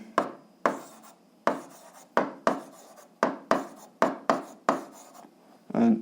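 Pen strokes of handwriting as an algebra answer is written out, a series of about nine short scratchy bursts at an even pace, close and clear, with no talking.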